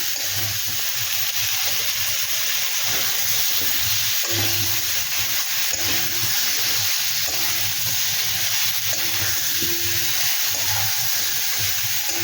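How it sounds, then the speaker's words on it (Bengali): Steady, loud sizzling of vegetables frying in a hot pan, with faint stirring scrapes now and then and no talking. "এইগুলোকে এবার ভালো করে ভাজতে হবে।"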